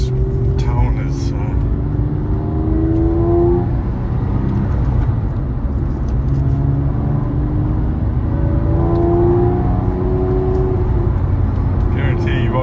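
A 2007 Porsche 911 Carrera 4S with sport exhaust, its flat-six droning loud and close as it accelerates in several rising pulls, with a deep steady rumble underneath.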